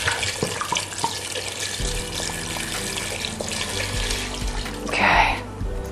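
Water runs steadily from a tap throughout, with a low hum and scattered clinks beneath, then swells louder and brighter near the end as it fills a pot for stock.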